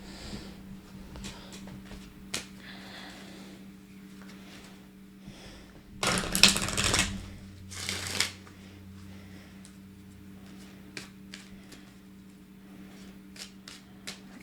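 Oracle cards are shuffled by hand during a tarot reading, with a quiet hum in the background, a burst of riffling around the middle and soft taps and card handling scattered before and after.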